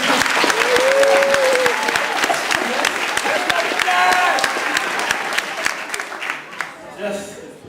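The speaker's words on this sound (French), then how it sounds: "moi je dis qu'on devrait donner une bonne main d'applaudissements dans membre à toilette" Loud audience applause at a French-language comedy show, a sustained burst of clapping with crowd noise and a couple of shouted voices over it, fading toward the end.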